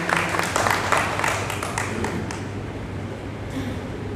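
Applause from an audience at a Bahujan Samaj Party political gathering in Gurgaon welcomes the Haryana state president, with dense clapping at first that thins out and fades, while crowd murmur continues underneath.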